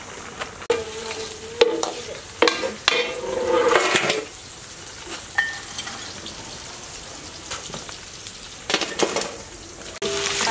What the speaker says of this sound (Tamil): ரவா வந்து நல்லா நெய்யில் வதக்கி எடுத்துக்கணும்